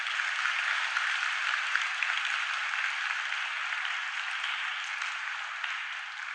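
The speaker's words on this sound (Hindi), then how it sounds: "जोरदार तालियों से स्वागत करिए अपने वेबसाइट को।" Seminar audience at a Kolkata industry event applauding the launch of a hospital website: dense, steady clapping from many hands, loud and sustained throughout with no voices over it.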